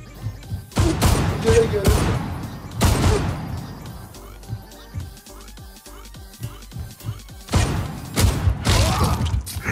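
Desert Eagle pistol shots in a Turkish 1v1 video game match, a few sharp bursts at the start and the end, with lighter clicks and mechanism noises between them and voices talking over the action.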